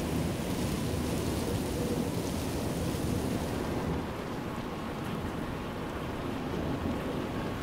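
Steady rain falls outdoors in foggy weather, making a continuous broadband hiss and patter that stays even and fairly loud from start to finish.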